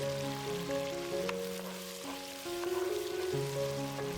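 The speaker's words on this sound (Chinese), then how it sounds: "翻炒至断生。" Green and red peppers and onion being stir-fried in a wok give a continuous moderate sizzle under prominent tonal background music, without any talking.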